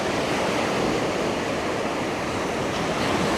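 Continuous broadband wash of ocean surf on a New Jersey beach, steady and fairly loud, with wind noise over the microphone and no voices.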